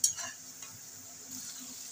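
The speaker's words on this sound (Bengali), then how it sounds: "এবার মশলাগুলোকে ভালো করে কষিয়ে নেব।" Cumin and coriander powder sizzle in hot oil while a spoon stirs them, scraping the pan in short strokes. The frying is close and fairly soft, and it fades after a brief sharp start.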